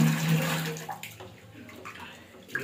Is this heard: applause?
no